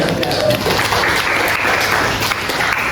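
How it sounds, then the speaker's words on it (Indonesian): Applause from an audience at a university teacher-training session, a steady wash of clapping at close range with some voices mixed in underneath. "Tepuk tangan untuk"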